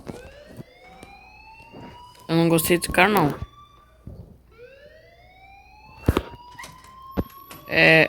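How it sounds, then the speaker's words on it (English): An alarm rings in the Life is Strange video game, rising siren-like wails repeating across the scene while someone speaks over it in bursts, with a few sharp clicks between. "please turn off that alarm since that's your job"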